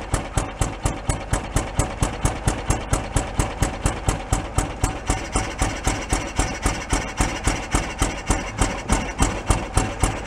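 An abandoned Porsche 914 station wagon engine idles loudly and roughly, with a steady even thumping pulse that keeps going throughout, close to the microphone and with no voices.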